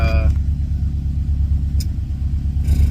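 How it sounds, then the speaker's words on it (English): A 2011 Subaru WRX with a rebuilt turbo idles unevenly during an idle relearn, a close, deep rumbling burble that wavers in a pulsing rhythm, with a voice speaking briefly near the start. "It's idle relearning, so it's gonna be a little all over the place."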